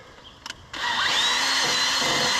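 A drill fitted with a wire wheel spins up hard against a rusted brake on an Oliver 1650 tractor, producing a loud, continuous grinding whir after a brief quiet start, with no speech.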